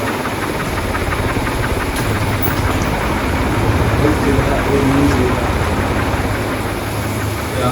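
A fogger machine in a cattle shed runs with a steady loud mechanical drone and rhythmic knocking, blowing cold air, while someone talks over it.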